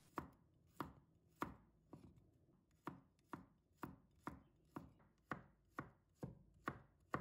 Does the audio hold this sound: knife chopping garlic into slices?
yes